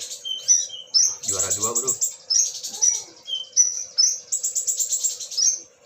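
A caged pet songbird, a prize-winning competition bird, chirps and trills loudly and up close in rapid repeated bursts, while someone briefly speaks.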